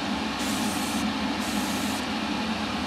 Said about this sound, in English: I'm going to spray some of this quickly and then we'll come back.